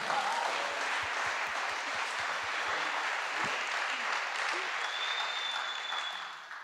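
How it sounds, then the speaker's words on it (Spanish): An audience at a church talk on purifying the heart breaks into sustained applause, dense clapping from many people held steady for several seconds before easing slightly at the end, with some voices mixed in. "Un aplauso a Yasmin."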